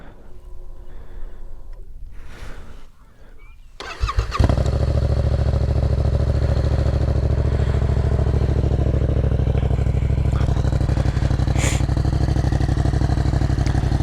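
A 2019 Yamaha MT-07 motorcycle with a Black Widow exhaust baffle cranks and catches after a few seconds of quiet clatter, then runs loud and steady close by, idling with a deep rumble and occasional revs.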